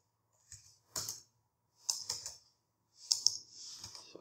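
Light keystrokes on a computer keyboard as code is typed, in four short clustered bursts separated by pauses, close and fairly quiet with no speech.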